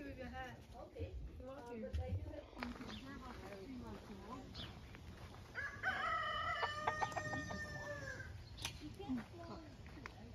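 A rooster crows loudly nearby, a drawn-out call rising midway through, while people talk quietly in the background.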